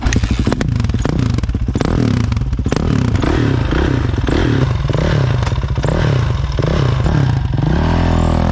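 A 2007 Kawasaki KX450F dirt bike engine revs loudly and continuously up close in a yard, its pitch rising and falling through repeated throttle blips with some clattering, and a steadier idle toward the end.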